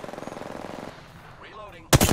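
Automatic gunfire in the Apex Legends video game, a rapid stream of loud shots for about a second, then a lull with faint game sounds before a sharp, loud burst at the end.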